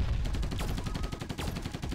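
Rapid-fire weapon shots in the arcade shooter Assault Android Cactus, a quick regular stream of sharp punchy blasts with whooshing streaks, loud and continuous over game noise.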